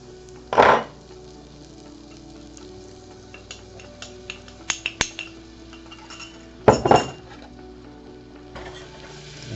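A garlic butter roux is stirred in a hot metal pot, with a low steady sizzle, a couple of loud scraping strokes, and a flurry of light metallic clinks from the utensil against the pot.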